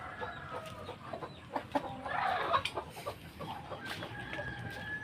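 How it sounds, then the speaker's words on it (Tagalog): Large chickens at a poultry farm cluck and crow steadily at mid distance, with overlapping calls and a louder burst in the middle over a busy flock background, and no talking. "Lalaki ng manok. Oh, laki ng manok."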